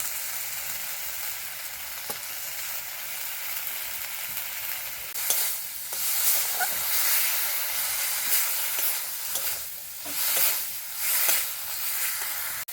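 Spices with turmeric and salt fry and sizzle in a pan for potato kofta curry, a steady hiss with scraping stir strokes growing busier toward the end.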